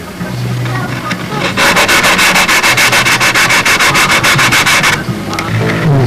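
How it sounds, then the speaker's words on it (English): A plywood block faced with sticky-back sandpaper rubs back and forth on a model aircraft part in quick, even, loud strokes, about a dozen rasping passes in a steady rhythm. "this is a piece of plywood with sticky back sandpaper on both sides"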